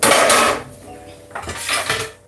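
A metal frying pan clanks and scrapes close by in a home kitchen, a loud clatter at first followed by a few lighter knocks.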